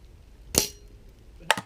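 An airgun fires at a crow-shaped target, giving two sharp, short cracks about a second apart, each a crisp metallic snap on near silence.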